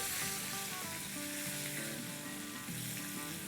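Medium-sized cauliflower pieces frying in a pan with cumin produce a dense, continuous sizzle and crackle, even and close, with faint tonal music underneath.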